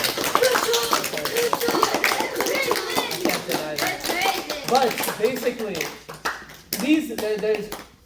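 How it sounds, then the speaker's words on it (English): Audience of a youth Taraweeh talk clapping in a round of applause, a steady patter of many hands running under a man's continuing speech. "Round of applause for him."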